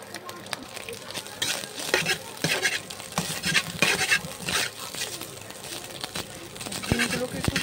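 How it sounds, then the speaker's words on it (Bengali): Two eggs fry in a pan while being prepared for chicken pasta, with sizzling under repeated scraping and stirring strokes of a utensil against the pan, close and rhythmic. "ডিম ফ্রাই করা হচ্ছে এখন, অর্থাৎ ডিম ভাজা হচ্ছে।"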